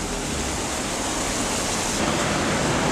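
Tiber Creek water flowing beneath buildings in Ellicott City, Maryland, a steady broadband rush that holds even throughout, with no voices.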